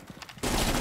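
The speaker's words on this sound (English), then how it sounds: "There is exchange of gunfire." Gunfire in a collegiate Rainbow Six match erupts suddenly after a brief quiet moment, then a dense burst of rapid shots fills the rest of the moment.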